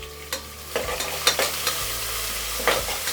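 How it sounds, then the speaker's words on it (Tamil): Sliced onions sauté over a high flame with spices, curry leaves and green chilli in a pan, giving a steady close sizzle broken by several sharp scraping stirs. "ஹை ஃப்ளேமில் வச்சுட்டு வெங்காயம் நல்லா வதங்கி விட்டுக்கோங்க."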